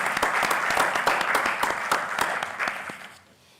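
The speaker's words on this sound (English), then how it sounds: "So a round of applause for the Jack" A short burst of audience applause at a Noblesville Board of Public Works meeting, with crisp individual claps that thin out and fade away after about three seconds.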